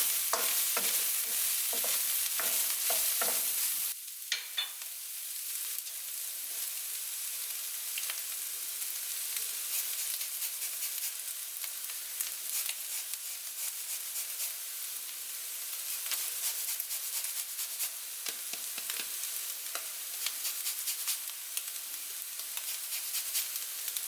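Egg stir-fried with vegetables and leftover chicken for orange teriyaki fried rice sizzles continuously in a hot pan. Rapid scraping clicks of a utensil come first, then a long steady hiss with scattered light taps and stirring.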